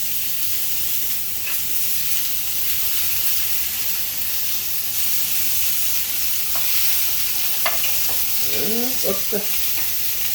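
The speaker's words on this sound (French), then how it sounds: "Là je vais juste marquer le thon très vite." Tuna searing quickly in a hot pan, a loud, continuous close sizzle and hiss with a few clinks from the cookware and a brief spoken word near the end.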